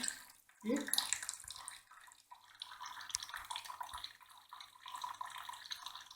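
Grape must from Asorti and Frontignac Gris grapes trickles out under a wine press, a close, continuous splashing flow of liquid with a steady low hum behind it.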